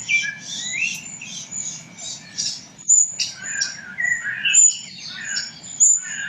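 Close blackbird song: rich, warbling phrases repeated with short gaps, clear and fairly loud over a faint low rumble.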